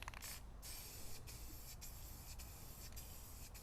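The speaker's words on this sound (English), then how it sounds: "we're going to hit this with a little black paint" Aerosol can spraying black paint onto a Ford Transit bumper part, a faint, steady hiss broken by several short pauses between passes.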